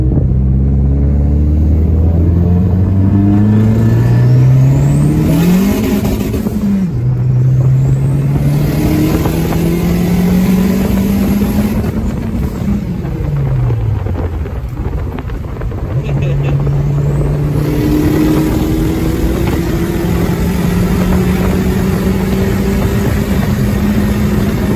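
Toyota Camry (2002–2006) driving with a short shifter and new shifter bushings installed: loud engine revs rise and fall in repeated sweeps with brief drops at each gear change, a steady close cabin rumble throughout.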